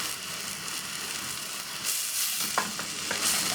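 Ginger garlic paste and spinach fry together in a pan with a continuous close sizzle, with a few clicking spatula stirs and scrapes toward the end.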